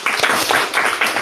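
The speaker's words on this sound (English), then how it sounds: "round of applause for you" A short, loud round of clapping from an event audience, heard as rhythmic bursts of hand claps close by and with no talk over it.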